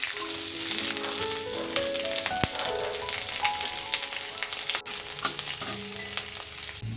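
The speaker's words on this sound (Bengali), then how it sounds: "এই দেখো এতগুলো রসুন আমি ছুলেছি এগুলোকে ভেজে নেবো" Peeled garlic cloves frying in a small amount of oil in a kadai, a continuous close crackling sizzle with scattered pops and a sharp clink partway through, no voices.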